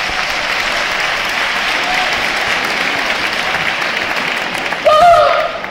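An audience at a talk breaks into sustained, loud applause, dense clapping throughout, with a brief whoop or cheer near the end.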